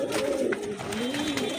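A pair of pigeons, a male and a female with black wings, coo close by in long rolling gliding tones that rise and fall across the whole stretch, clear and without talk.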